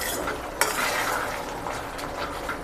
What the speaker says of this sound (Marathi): आता आपल्याला असंच एक दोन मिनटं अजून आपल्याला असं हलवायचं आहे